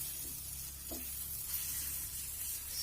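Tomato omelette batter is spread thin across a hot pan with a ladle, producing a faint, steady sizzle with a couple of soft scraping touches near the start.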